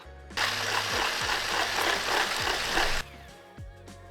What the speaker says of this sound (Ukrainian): додаємо охолоджені вершки у крем-сир і збиваємо